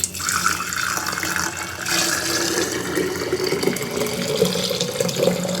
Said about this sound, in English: I'll use my funnel so I don't make a giant mess